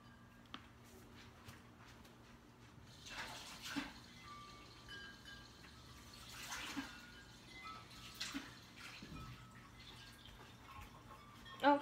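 Water runs from a kitchen tap to wash chocolate off, giving a soft, intermittent splashing and trickling with a few clearer bursts of flow and small clinks, faint and fairly distant.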